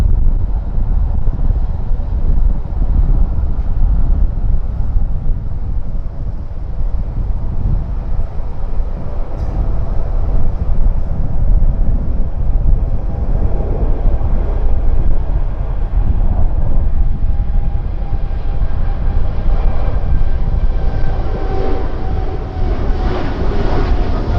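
A Vietnam Airlines Boeing 787-9 Dreamliner takes off from Tân Sơn Nhất airport, its loud, steady jet roar filling the air and building slightly over time, with no talking.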